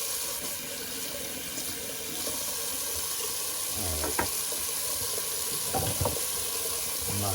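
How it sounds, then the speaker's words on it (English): Cold water runs from a sink tap in a steady stream, with a few clatters of items being knocked about and a brief spoken remark over the flow. "a little cold water rinse"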